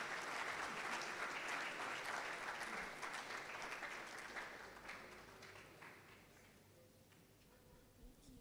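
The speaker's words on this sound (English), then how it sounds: "Please let's give her a round of applause as she comes up." Audience applause as a speaker comes up on stage at a conference event, a dense burst of clapping that gradually thins and fades over several seconds.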